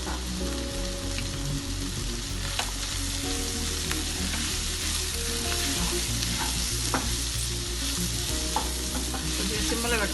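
Ivy gourd fry is stirred in a hot pan, with a spatula scraping and clinking steadily over continuous sizzling oil, close up and without any talk.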